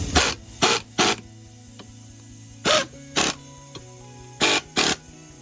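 An impact wrench driving bolts while installing an AMP Research Bed Step 2 on a 2021 Ford F350, in short sharp bursts of about a quarter second each, grouped in pairs and threes with pauses between, loud and close.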